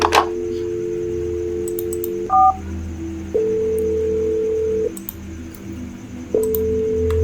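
Telephone keypad tones from a horror video game, a few short beeps followed by long steady dial tones that switch on and off in turn, clear and close over a low background hum.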